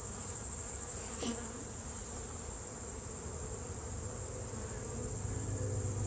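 A dense, steady hum of many bees buzzing together at a hive, continuous and close, with no voices.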